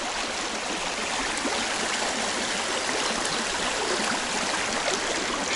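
A stream flows through taiga forest near a river with a steady, even rush and hiss of water, moderately close and unchanging, with no voices.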